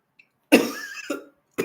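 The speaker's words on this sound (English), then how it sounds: "I don't know why I got the cough." A single harsh cough bursts out close by, followed by a shorter second cough and then the start of a third after a brief pause.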